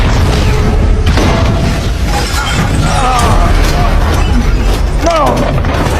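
Missile explosion effects thunder through a Transformers: Age of Extinction stop-motion battle, loud repeated booms and crashes over a constant chaotic din, with shouting voices and shrill whistling sounds mixed in.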